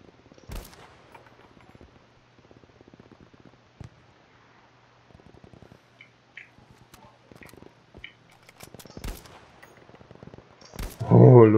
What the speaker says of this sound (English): Oops, just firing now.